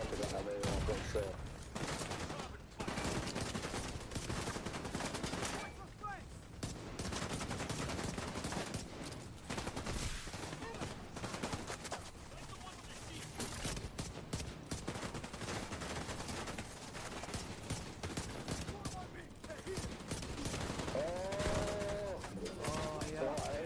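Heavy gunfire and bursts from the Division 2 video game keep rolling at the player, loud and dense throughout, with talk over parts of it.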